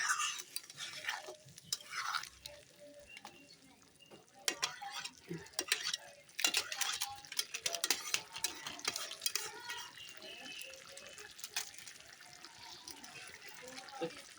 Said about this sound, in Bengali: এখন সব কিছু দিয়ে কষিয়ে নিচ্ছি